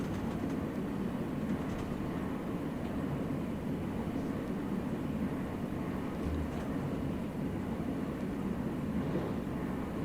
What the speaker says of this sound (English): Well, you see the train does start to slow down.